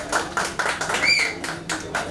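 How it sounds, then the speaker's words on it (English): Audience clapping for themselves at a live author event in a venue with Indian writers Ravinder Singh and Durjoy Dutta, a few distinct claps then a dense steady patter of applause. "Please clap for yourself."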